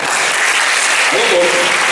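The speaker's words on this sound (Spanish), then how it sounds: "Un aplauso para" Audience at an academic symposium in Bejuma applauding a speaker's introduction, steady dense clapping throughout with a brief voice rising through it.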